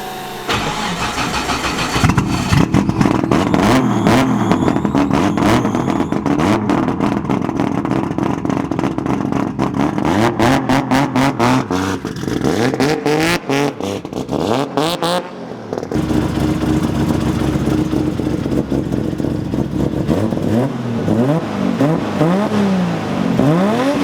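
An unmodified car in original condition revs hard and steadily, its loud engine note sweeping up and down through repeated rises and falls with a brief drop in the middle, and no talking.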